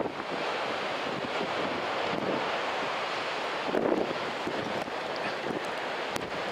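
Ocean waves breaking at Sendai Shinko beach in winter, a continuous roar of surf with heavy wind buffeting the microphone and a louder swell midway.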